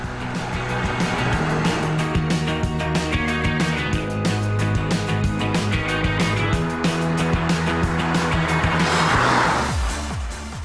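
An Audi A4 Allroad with permanent all-wheel drive is driven hard, giving a continuous engine and road noise with rhythmic pulses and some tire scrub. The sound stays close and steady for about ten seconds, with no voices.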